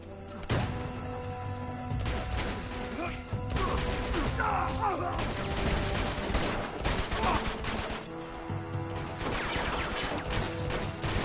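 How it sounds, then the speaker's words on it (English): Gunfire in the video game Uncharted 2: Among Thieves, dense bursts of rapid shots and crashing impacts filling nearly the whole stretch, loud and continuous with brief lulls. "why are you shooting at me like that?"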